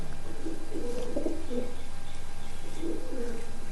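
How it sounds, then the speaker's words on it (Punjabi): Soft, low pigeon coos come in two short bursts over a steady background hum, fairly close by. "ਦੇਖੋ ਇਹ ਕਬੂਤਰ ਆਪਣੇ ਸ਼ਾਖਾ ਕਬੂਤਰ ਹੈ"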